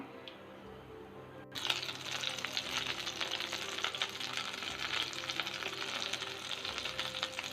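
Boneless chicken hits hot butter in a pan with a sudden loud sizzle that then holds steady and close, with faint stirring crackles and no talk.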